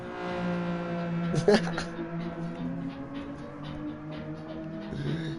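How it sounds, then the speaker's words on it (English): A car engine in the racing game GT Sport drones steadily with a buzzy, thin tone and small shifts in pitch, while someone talks over it. "Is that a boxer engine or am I missing a cylinder?"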